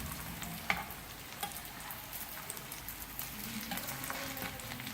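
Beef resha kebabs fry on a flat tawa griddle with a steady, close sizzle, broken by a few sharp ticks and scrapes as the patties are turned one by one.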